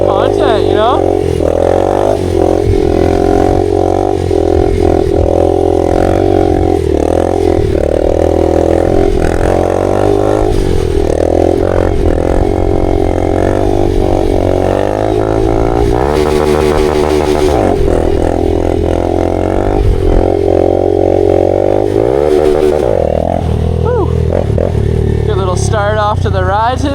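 A Honda Grom motorcycle engine runs loud and close throughout, holding a steady throbbing idle with a couple of short revs, while a voice talks over it.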